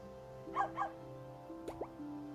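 A husky pup in the video game Carto gives two quick, close barks, then a few short yips and whimpery squeaks alone over a soft musical backdrop.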